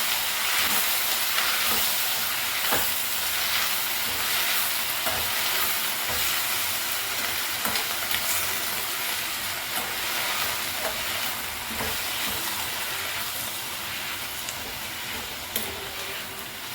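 Vallarai (pennywort) greens sautéing in a pan for thuvaiyal, giving a steady, fairly loud sizzling hiss with occasional stirring clicks and scrapes throughout, and no voices.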